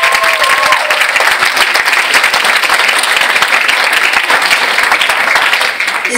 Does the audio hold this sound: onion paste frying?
no